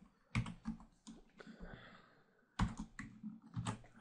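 Quick bursts of keystrokes on a computer keyboard while writing web-scraping code, sharp close clicks in clusters separated by short pauses.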